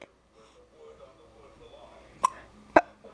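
A child gives two sharp hiccups about half a second apart, close and distinct over faint background murmur, with a voice speaking quietly.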